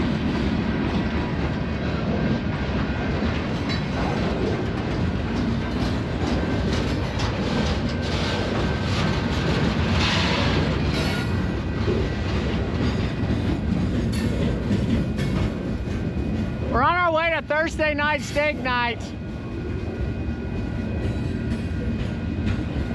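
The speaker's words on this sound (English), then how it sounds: "And there's a train." A train rumbles past nearby in Houston in a continuous loud clatter of wheels on rails lasting the whole stretch, while a person talks briefly near the end.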